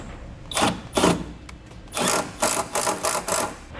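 A power drill drives a screw into a pilot hole while a side step is being fitted to a 1994 vehicle, heard as several short, loud whirring bursts separated by brief pauses, with no talking.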